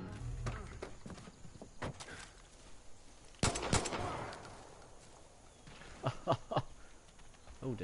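Gunfire in Far Cry 5 sounds as sharp single shots and short bursts, scattered across the clip at moderate loudness, with a louder cluster midway, over a low game background with some faint talk.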